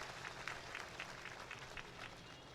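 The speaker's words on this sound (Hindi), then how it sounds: "ये जो तालियों की गड़गड़ाहट है ना, इससे मुझे राजनीति की गर्मी का पता चल जाता है।" Crowd applause at an election campaign rally in Arang, Chhattisgarh, faint and distant, with rhythmic clapping bursts pulsing at a quick, even pace.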